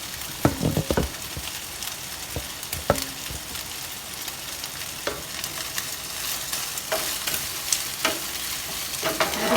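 Garlic frying in a pan for a mushroom sauce gives a steady close sizzle, with intermittent knocks and scrapes of a stirring utensil.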